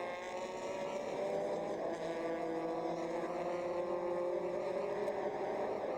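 V12 BMW sports cars roar along the start-finish straight at the Nurburgring, a sustained high engine drone with layered harmonics that holds loud and steady throughout.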